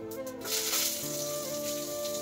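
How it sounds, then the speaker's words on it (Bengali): Pointed gourd (potol) frying in hot oil in a pan with cumin and radhuni seeds gives off a steady, close sizzle with a soft hiss throughout. There is no talking. "আগে পটলগুলো ভাজবো"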